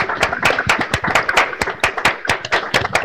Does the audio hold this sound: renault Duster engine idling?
no